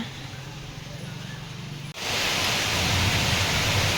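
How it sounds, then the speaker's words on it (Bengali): Heavy rain begins outside a balcony lined with plants. A quieter hiss of falling water jumps abruptly to a dense, loud, steady downpour partway through. "দেখো খুব জোর বৃষ্টি নামলো একটু সময়ের মধ্যে ভালো বৃষ্টি চলে এসেছে দেখো"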